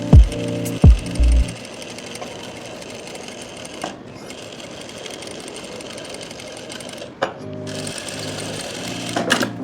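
Sewing machine runs in short rapid bursts at the start and end while stitching a kurti neckline, with a quieter stretch of handling noise between, close and loud.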